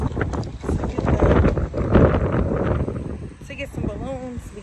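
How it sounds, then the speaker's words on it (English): Strong wind buffets the microphone outdoors in a store parking lot, a loud continuous roar and rumble that rises and falls, with someone talking over it. "So it's so windy, my hair is all over the place."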